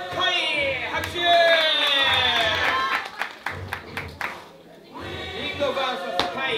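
Crowd at a kids' dance battle quarterfinal in Tohoku clapping and cheering for a contestant, with a dense burst of applause and whoops that thins into scattered claps before swelling again, voices mixed in.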